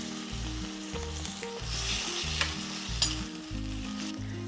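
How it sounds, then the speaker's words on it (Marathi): A vegetable dish sizzling in a pan, a dense close-up crackling fry that stays steady throughout, with a couple of brief sharp clicks and no speech. "आता आपण थोडंसं मोठं करून हे परत शिजवून घेऊ"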